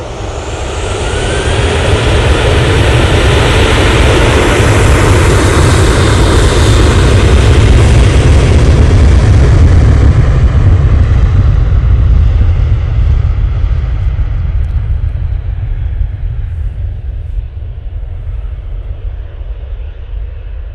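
An Emirates airliner at Manchester Airport produces a loud, steady, broadband jet roar that swells and holds for about twenty seconds, then slowly eases, with no voices.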